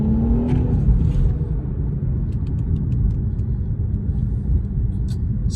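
A 2022 Infiniti Q50 twin-turbo with nearly 20,000 miles cruises along, giving a loud, continuous, low cabin rumble with faint ticks and clicks on top.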